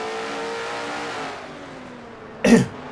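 Number 88 race car in a racing video game drones past with a sustained tonal engine whine that fades, ending in a short harsh burst near the end.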